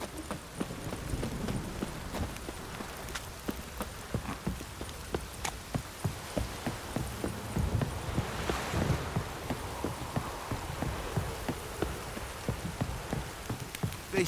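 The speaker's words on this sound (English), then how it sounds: "This downpour's a bastard, it is." Steady rainfall in the video game The Witcher 3 under a dim, continuous hiss, with a regular clip-clop of hooves or footsteps pacing through it, moderately quiet and without voices.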